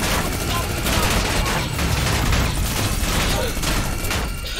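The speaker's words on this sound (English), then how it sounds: "Heavy fire from behind." Heavy gunfire in a Fortnite air battle, dense and continuous bursts of shots that keep up steadily throughout, loud and close.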